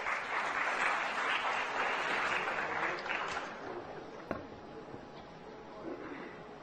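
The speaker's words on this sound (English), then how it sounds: "Let's welcome him with a round of applause." Audience at a university literary festival gathering applauding a guest, a broad sustained clapping that gradually tapers off into a quieter hall with a few stray claps.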